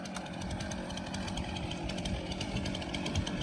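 A chainsaw with a short bar cuts into a big tree, and the engine holds a steady, gritty buzzing drone under load, fairly loud and continuous with no voices.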